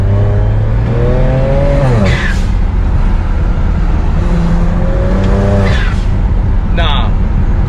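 A BMW 335i accelerates hard through the gears, its engine note rising and dropping with each shift, loud and close from inside the car under a constant road roar, with a brief voice near the end.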